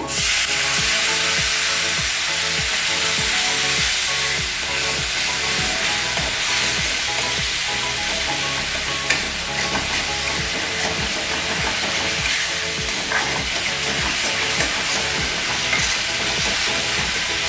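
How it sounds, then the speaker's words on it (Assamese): Cumin, coriander, turmeric and salt frying in hot oil in a pan for an Assamese fish curry, a dense, steady sizzle with regular scraping from the stirring spoon and no talk. "মছলাখিনি শুকান মছলাখিনি দিয়াৰ পিছতো 30 ছেকেণ্ডমান সময় ভাজিলে"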